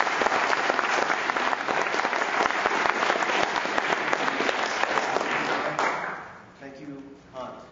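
Union meeting audience applauding a speaker, dense steady clapping that fills the room for about six seconds, then fades out as a voice begins speaking.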